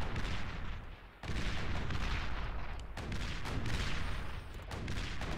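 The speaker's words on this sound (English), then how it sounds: "As these mortar bots begin laying into the remaining hammers" Mortar bots fire in the real-time strategy game Beyond All Reason, a dense, continuous barrage of booming artillery blasts and explosions that stays loud throughout, with a brief dip around the first second.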